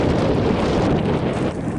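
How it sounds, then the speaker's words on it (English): Strong wind roars across the microphone outdoors in a field near Animas, New Mexico, as a steady, loud rumbling buffet with no breaks. "It's so windy."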